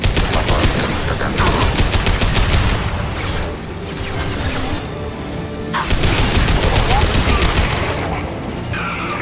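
Heavy gunfire from a Mass Effect 2 battle, with dense rapid bursts and booming shots continuing throughout, loud and close, with brief lulls between volleys and game voices speaking over the fighting.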